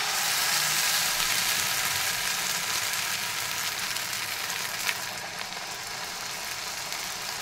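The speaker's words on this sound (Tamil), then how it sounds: "சூடானதும் கொஞ்சம் மீடியம் ஃப்ளேமில் வச்சு தோசைக்கல்ல வச்சுருங்க" Karpooravalli leaf dosa sizzles on a griddle over a medium flame, a steady, close frying hiss with faint crackles and no talking.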